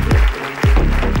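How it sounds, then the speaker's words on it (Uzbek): Audience applause at a comedy show, a short dense burst of clapping with a few stronger beats, close and loud throughout. "Qarsak chalib qo'yinglar"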